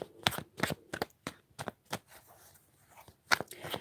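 Tarot cards are shuffled close by, riffling in several short crisp bursts with brief pauses between them, fairly soft and with no voice.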